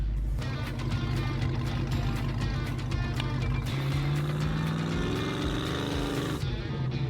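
An off-road Hellcat car's rear tire spins in mud under a loud, continuous engine roar that shifts pitch as the revs rise and fall, close and sustained.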